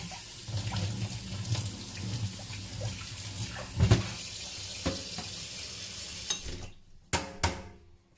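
Tap water runs steadily into a sink while fenugreek seeds are rinsed, with soft splashing and a few knocks, then the flow stops and a couple of brief clatters follow.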